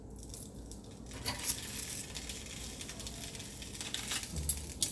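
Hot charcoal pieces being set down on a barbecue pan, soft clinks and faint crackling with a light sizzle, quiet and close.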